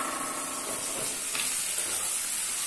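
Onion and scotch bonnet pepper frying in a little vegetable oil in a pan, a steady close sizzle and hiss running throughout without pause.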